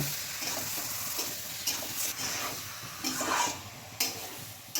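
Chicken sizzles and gets stirred in a spice masala for chicken kosha, a soft, continuous frying hiss with a few brief scraping bursts, fairly quiet and close.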